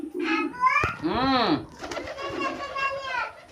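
Large heavy-breed pigeons, one weighing about a kilogram, coo close by in rounded, rising-and-falling calls, with a person speaking briefly among the birds.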